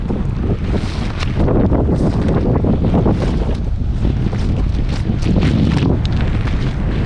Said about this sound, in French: il y a un peu trop de vent